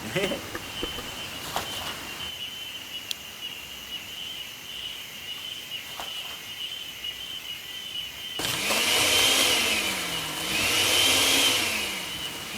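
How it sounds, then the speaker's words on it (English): A Magic Bullet blender whirs loudly, blending callaloo leaves outdoors on solar power in two swelling bursts near the end, after a quieter stretch with birds and scattered background noises. "I can bring my magic bullet up here and I can blend my callaloo and get to cooking"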